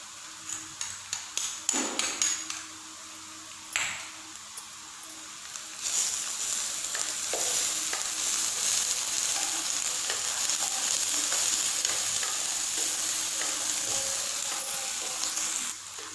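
Garlic and green chili paste fries in a pan for an arvi curry: a few scraping stirs and taps at first, then a steady, loud sizzle that crackles without pause.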